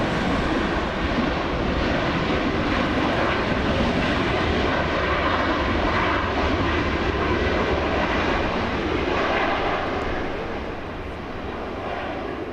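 A jet airliner flying in from Seattle, Washington, arrives at LAX with a loud, sustained engine roar and rumble that holds steady for most of its length, then eases off slightly near the end, with no voices.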